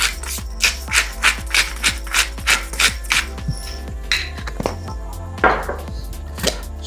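Pepper is ground onto a leg of lamb with a brisk, rhythmic grinding, about a dozen evenly spaced scraping bursts, close and fairly quiet, slowing toward the end.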